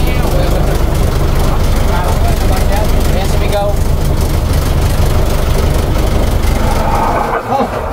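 A vehicle engine idles in neutral with a steady low rumble, then sputters and stalls near the end, while several people talk loudly over it.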